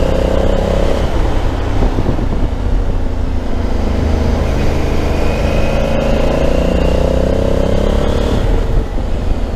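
Honda Africa Twin Adventure Sports motorcycle, a 2021 model, leaning through a tight curve, engine humming loud and steady close up with rushing wind over it and no voices.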